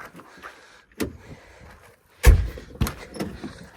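A car's back door is handled with a few sharp clunks and a solid latch thud amid light handling noise, close by and with no talking.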